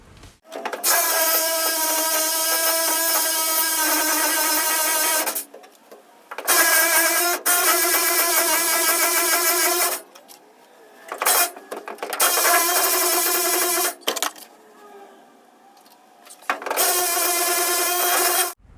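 A seized bolt on a 1976 Ford F150 being cut through, bursts of harsh, loud, close grinding or sawing that start and stop repeatedly, with short quiet gaps between passes.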